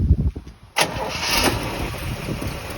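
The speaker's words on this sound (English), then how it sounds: "Car starts right up with ease." A 1957 Chevrolet Corvette with a 283 cubic inch V8 and dual Carter four-barrel carburetors cranks briefly, then catches and roars to life, settling into a steady, smooth idle close to the microphone.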